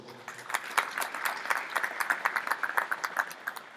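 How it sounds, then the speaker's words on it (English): Audience applause for Priska Mufumira, the Minister of Tourism and Hospitality Industry, at a Rainbow Tourism Group app launch, a steady patter of many clapping hands that keeps up for several seconds with faint background voices. "Another big round of applause."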